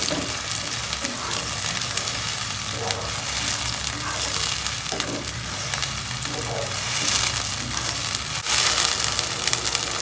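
A loud, steady sizzle of a blended chili and onion paste frying in hot oil for green chili chicken, with occasional stirring scrapes and no voices.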